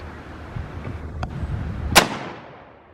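A single sharp rifle report cracks out during a Corsican ram hunt in Pennsylvania, loud and close, followed by a fading echo, with a fainter click-like pop just before it.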